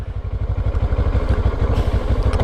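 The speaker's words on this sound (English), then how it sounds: "we're gonna hold that down till the bike starts" A motorcycle engine idles close by in a rapid, steady, throbbing pulse, loud and alone, with no start-up heard.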